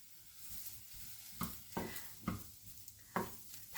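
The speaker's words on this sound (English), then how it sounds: "so what I do the pan is hot now put the mushroom in" Shiitake mushrooms hit a hot pan with a little water, giving soft intermittent sizzles and several sharp stirring scrapes against a quiet background.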